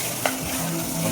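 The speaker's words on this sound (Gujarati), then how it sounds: "ટામેટાની ગ્રેવી નાખી દીધી છે હવે એને મિક્સ કરવામાં આવશે પાછી" Tomato gravy being stirred into dal makhani in a pot: a brief steady hiss of cooking with a single soft scrape of the spoon early on.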